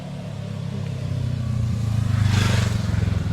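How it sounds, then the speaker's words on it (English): A motorbike approaches on a forested mountain road, its engine growing from a low rumble to a louder, throbbing drone as it nears; no one speaks. "there's a motorbike coming"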